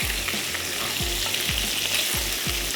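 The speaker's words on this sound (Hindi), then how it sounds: "थोड़ा सा और फ्राई करते हैं, हल्का सा गोल्डन सा होगा" Meat sizzling loudly in a pot for lobia biryani, with rhythmic stirring strokes scraping roughly every half second over a constant close frying hiss, and no voices.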